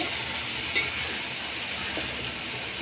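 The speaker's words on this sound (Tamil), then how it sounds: "நல்லா வதக்கணும். இறாவுலேயே வந்து தண்ணி வரும்." Prawns sauté in a pan, giving off a steady, close, hissing sizzle that holds evenly throughout.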